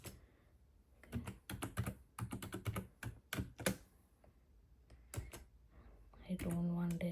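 Keys clatter on a computer keyboard in quick, irregular bursts as Java code is typed, fairly quiet and close, with a pause midway and a few later keystrokes.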